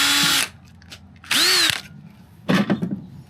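A power drill bores holes while a front lip is fitted to an 11th-generation Honda Civic, whining in three short separate bursts with quiet gaps between them.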